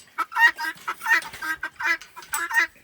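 Chickens cluck in quick bursts close by, with a rooster among them, a busy run of short throaty calls and no talking over it.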